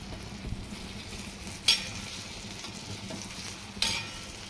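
Flour roasting in hot oil for banana sabzi, a soft steady sizzle with occasional scraping stir strokes, two sharper clicks of the utensil against the pan.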